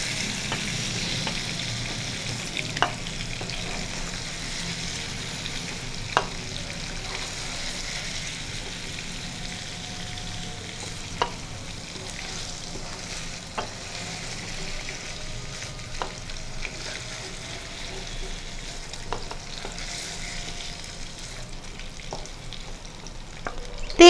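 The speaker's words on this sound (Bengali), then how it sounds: "তেল এবং ঘি যতটুকু রয়ে গেছে তার মধ্যে দুটো শুকনো লঙ্কা ফোড়ন দিলাম" Dried red chillies crackle in leftover oil and ghee for a Bengali dudh shukto, a continuous moderate sizzle with occasional sharp pops and clicks from a spoon, no voices.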